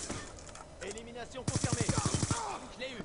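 Rapid automatic gunfire in Call of Duty Black Ops 2, a quick burst of about a dozen evenly spaced shots under a voice talking over the game.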